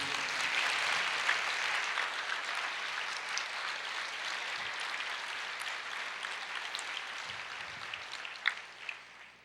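A church congregation applauding during a sermon, sustained massed clapping that is loud at first and gradually fades, with a few sharper claps near the end.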